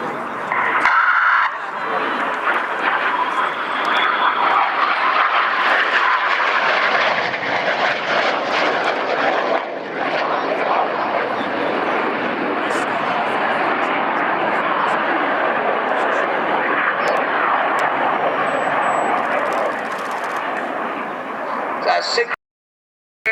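Red Arrows jets flying an air display at Yeovilton, a loud sustained jet roar that holds steady for most of the pass before cutting off abruptly, with crowd and commentary voices faintly beneath.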